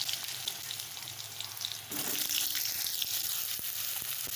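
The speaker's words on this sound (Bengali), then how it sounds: "কেটে রাখা আলুগুলো এর মধ্যে দিয়ে দিচ্ছি।" Cut potatoes go into hot oil already crackling with whole cumin. A quieter sizzle jumps to a louder, fuller frying roar partway through and stays steady and close.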